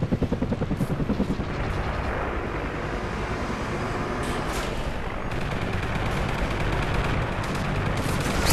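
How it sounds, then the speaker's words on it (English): A friendly helicopter in a Call of Duty multiplayer match thrums with steady rotor pulsing under continuous machine-gun fire and scattered gunshots, a loud dense battle mix throughout. "Friendly chopper inbound."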